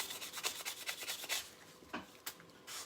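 Sandpaper rubs metal ties with an oxidation film, heard as close, quick back-and-forth scratchy strokes in a rapid rhythm that slows into a few separate swipes, no talking.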